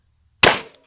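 A single sharp shot from a cheap pistol, loud and close, a sudden crack that decays quickly after a short silence.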